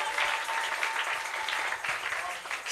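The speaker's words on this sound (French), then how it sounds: "Est-ce qu'on peut acclamer pour la parole?" A congregation at a Sunday church service applauds in a loud, steady wash of clapping with voices mixed in.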